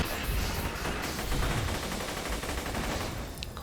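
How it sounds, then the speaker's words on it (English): Sustained rattling fire from a core defense turret in Borderlands, a dense continuous barrage of rapid shots that stays loud and steady throughout. "Core defense turret."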